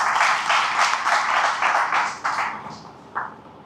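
An audience at an MSME training session claps in a dense burst of applause that holds steady and then thins into a few scattered final claps.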